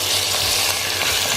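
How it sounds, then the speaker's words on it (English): Ground meat for a Bolognese frying in hot olive oil, a loud, continuous close sizzle with crackling spatter and no talk. "rest of the meat comes in."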